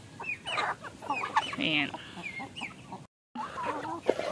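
Backyard chickens cluck and squawk close by in several overlapping bursts with bird chatter behind, broken by a short silent gap; a voice speaks briefly at the start.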